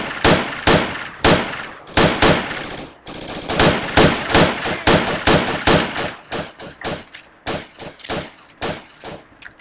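Rapid automatic gunfire in the video game Project Reality v0.75, on the Sunset City map, fired as loud, close bursts of sharp cracks in an unbroken rhythm that breaks into shorter volleys near the end.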